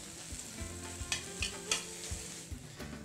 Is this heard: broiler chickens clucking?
no